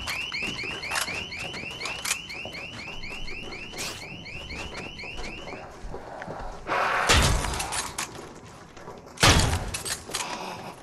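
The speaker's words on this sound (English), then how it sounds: "I set off an alarm." An alarm blares in Dead Island 2 with rapid repeating electronic chirps like a car alarm, then stops. Loud crashes and glass-like shattering bursts follow.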